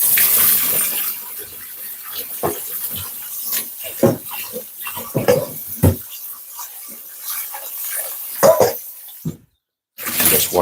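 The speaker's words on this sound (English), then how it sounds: "Just washing out this bowl because I'm gonna need this" Water from a running kitchen tap splashes into a bowl as it is washed out, with irregular close splashes and clatter and a brief gap near the end.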